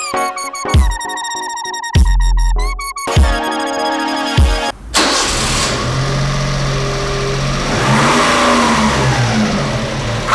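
A Honda Beat's small engine cranks in several short bursts, catches and revs sharply, then settles into a steady, close running note with rising and falling revs as the car is driven outside.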